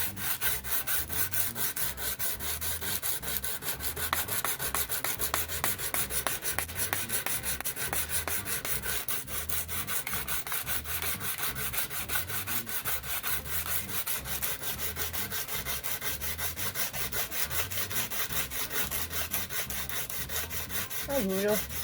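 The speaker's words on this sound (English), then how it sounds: "Lots of sanding. Tons and tons of sanding." Rhythmic back-and-forth sanding on the wooden body of an electric guitar, steady rasping strokes repeating at an even pace for the whole stretch, close and moderately loud.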